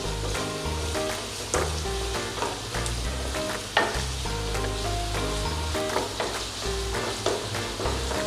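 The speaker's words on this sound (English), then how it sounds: "Now we'll fry till the onions become slightly brown." Onions frying with salt in a pan for lemon rice, a steady close sizzle with repeated scraping and stirring knocks throughout, no talking.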